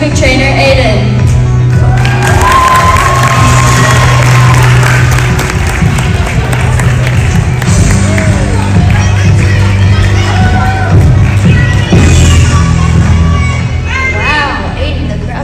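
A large audience at a parent performance cheering and applauding loudly for an Olympic trainer, with whoops and shouts over dense clapping and music underneath, sustained for the whole stretch.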